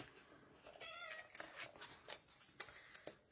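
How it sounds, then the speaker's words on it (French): A pet cat meows several times indoors, faint and somewhat distant, a few short rising calls over quiet room noise with light tapping. "Vous entendez encore mon chat."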